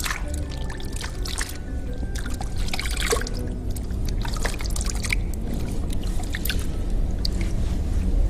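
Water splashes and trickles over feet as they are rinsed during a pedicure, an irregular sequence of close pours, drips and wet squishes.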